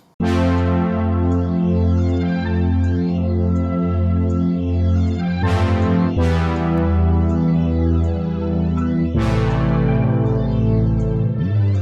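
Chords from an analog lab synth sit over a bass line and a looped music sample, full and continuous, with bright new chord hits entering every few seconds; no talking.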